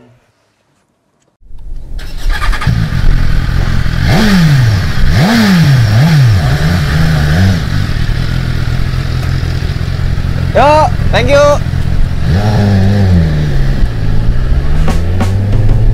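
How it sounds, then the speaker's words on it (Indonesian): A BMW S1000 RR sport motorcycle engine starts up close by, then revs repeatedly in loud rising and falling surges over a steady idle; a voice speaks briefly. "Itu tadi suara mesinnya BMW S1000 RR."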